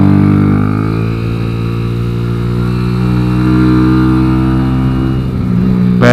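A Kawasaki Z125 track motorcycle engine running close by, a loud, steady mid-pitched drone with a strong harmonic hum that stays level throughout, then breaks into a short burst of noise at the very end.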